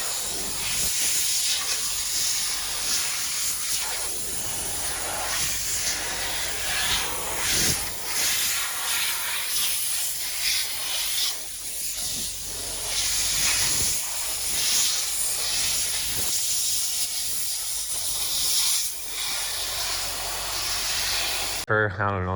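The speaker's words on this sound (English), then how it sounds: "we found using a big heavy industrial air compressor works just a little bit better" Big heavy industrial air compressor blasting air to clear mud off a combine corn head, a loud continuous hiss with brief surges and dips, a voice talking now and then underneath.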